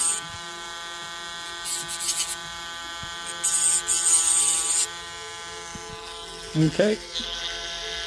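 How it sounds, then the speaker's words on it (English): A Dremel rotary tool runs with a steady high-pitched motor whine while working on a Tomy Talk and Action Thomas toy, with louder grinding bursts and a short spoken word near the end. "Let me turn this Dremel tool off."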